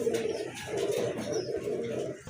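Pigeons coo steadily and close by, in low repeated rumbling calls with a few faint chirps, in a loft of large Rasgolla pigeons being shown for sale.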